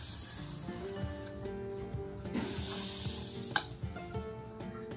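Hot oil poured into semolina (rava) for crispy samosa puri dough, giving a soft, continuous sizzle with light stirring clicks and one sharp tap near the end, set against a steady tonal background.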